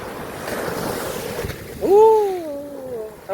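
High-tide waves wash in at Caba Beach, La Union, as a steady, soft rushing roar with wind. A brief tonal call cuts in partway through.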